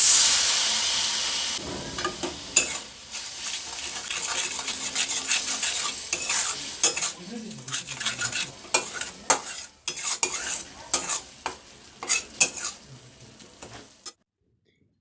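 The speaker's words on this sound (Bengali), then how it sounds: "এই মশলাটাকে খুব ভালো করে কষিয়ে নিতে হবে।" Tomato spice paste with turmeric, salt, coriander and cumin powder is sautéed in a pan for a cabbage dish, with a soft sizzle under frequent sharp scraping and tapping strokes of a spatula, close up and without talk.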